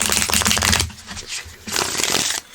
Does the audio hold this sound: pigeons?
no